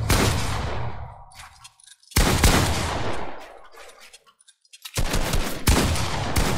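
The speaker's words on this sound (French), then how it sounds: "Elliot met une petite balle de pompe, derrière, ça peut être un avantage de motion" Shotgun blasts in a solo boxfight tournament video game, three loud booming shots each trailing off over about two seconds, close and heavy, with no talking.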